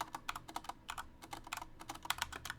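Quick, irregular clatter of keys on a computer keyboard, close and clear, a short burst of typing with no voices.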